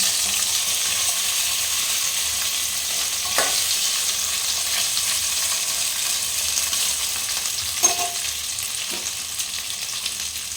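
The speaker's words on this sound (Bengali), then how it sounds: "আমি এটাতে একটু তেল দিলাম এরপর আমার আলুটা যেটা আছে সেটা আমি ভেজে নেব" Potatoes frying in oil give a continuous bright sizzle, steady and moderately loud, with a few faint clicks of a utensil against the pan.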